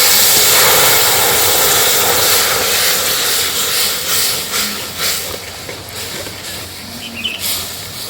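Milk poured into a hot pan over a lowered flame while making misti doi, a loud rushing hiss that gradually softens and breaks up toward the end, with no talking.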